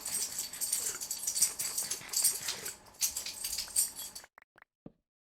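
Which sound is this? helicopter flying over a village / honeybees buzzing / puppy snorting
puppy snorting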